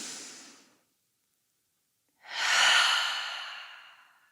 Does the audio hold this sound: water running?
no